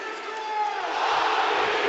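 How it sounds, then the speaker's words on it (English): Stadium crowd at a Serie A match between Roma and Juventus roars and applauds after a Roma goal, a broad sustained wash of noise that swells slightly louder toward the end. "And a huge round of applause."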